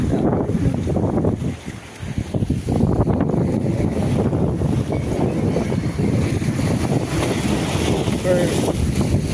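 Steady rushing wind buffets the microphone while water sloshes and splashes around a moving boat off Naoussa, Paros Island, Greece, with voices occasionally audible beneath the roar.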